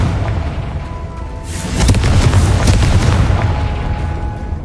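A fire-blast spell detonating in the video game Hogwarts Legacy: a loud, booming burst that swells and rumbles for a few seconds over a constant ambient background, with no voices.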